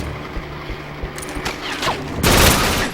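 Vargan gun in a first-person shooter, firing in a quick run of sharp shots that builds into a dense, louder burst at the end, close and alone.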